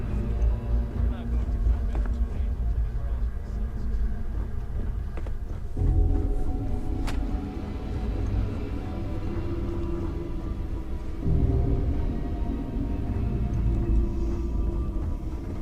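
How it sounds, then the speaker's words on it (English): Starship engines in the video game Starfield give a steady low hum and drone, continuous throughout with slight swells, under background speech. "I can hear the engines, can't you?"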